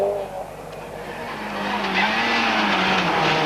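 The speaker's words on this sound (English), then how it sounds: "Phil Collins and Brian Thomas and the Mr. Tompkins Sierra Cosworth are just 3 seconds down on McRae" A Ford Sierra Cosworth rally car races along a stage of the 1988 Circuit of Ireland Rally, its engine note rising and holding loud and close, with a commentator talking over it.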